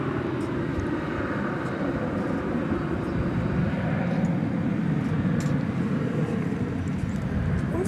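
An American airliner departing DFW Airport, a continuous distant jet engine roar with a broad rumble that holds steady throughout, heard alone outdoors.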